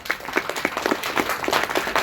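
Audience clapping at a talk on the Union Budget, a steady patter of many hands at moderate level with a few louder individual claps standing out.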